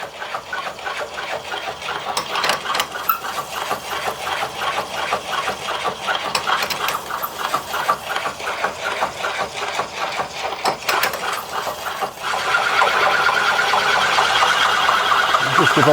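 Steady grinding buzz as a tool cuts away welded-in aluminium on a damaged 2-stroke crankcase, with rough rapid chatter throughout, getting a little louder and harsher near the end, with a voice talking now and then.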